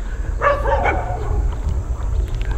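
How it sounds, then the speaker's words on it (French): Dogs bark in a South Korean village, a few close yaps in a short burst followed by fainter barks over a low background rumble. "Et on est accueilli par des chiens"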